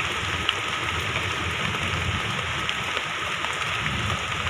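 Steady rain falls during bad weather outdoors, a dense even hiss of drops close by with a low rumble beneath, continuous throughout.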